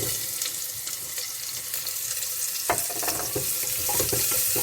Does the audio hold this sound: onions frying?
yes